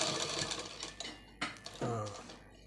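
A sewing machine stitching through folded saree fabric runs in short close bursts, a busy mechanical whirr with ticking pauses and a final low rumble as it stops.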